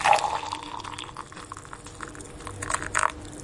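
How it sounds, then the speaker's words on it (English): A drink being poured at the end of a summer festival gathering, a close, soft liquid stream with gurgles and splashes that swell toward the end. "let me pour you a drink before we're gone"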